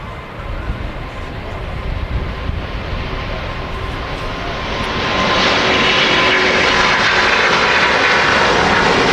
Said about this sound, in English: That Singapore, the engine sound on that. Them Trent XWBs are brilliant.